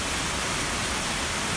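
Floodwater rushes after 140 mm of rain in Barbalha, in Ceará's Cariri region, as one loud, unbroken broadband roar with no pauses.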